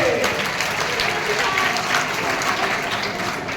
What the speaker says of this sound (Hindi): जोरदार तालियां गंदूलाल के लिए